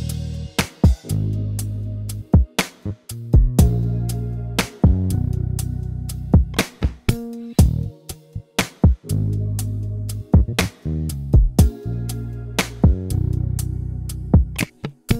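The bridge of an R&B beat built in Ableton Live plays loud and alone: sustained harmonic chords and stabs under a punchy drum pattern with sharp, evenly spaced hits repeating through the section.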